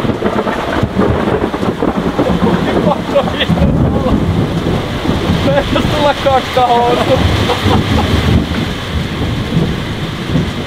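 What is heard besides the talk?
thunder during a thunderstorm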